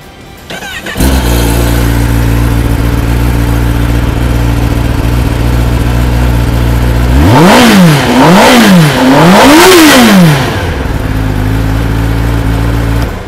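A Kawasaki ZX superbike (ZX1) with a stock exhaust and an inline four-cylinder engine fires up and idles loudly and close. After that come three sharp revs that climb and fall, and it settles back to idle with no talk.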